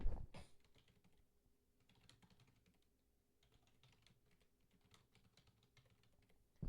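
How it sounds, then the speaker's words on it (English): Fingers tap on a computer keyboard in short irregular bursts of quiet clicks entering text into a spreadsheet, close and faint, with brief pauses between runs of keys and louder knocks at the start and end. "Let me type in."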